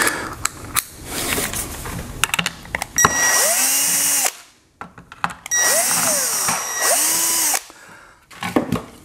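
Power driver fitted with a security bit backing screws out of a Ryobi 40V battery charger, two whining bursts with rising and falling motor pitch, separated by clicks and handling knocks, close and loud.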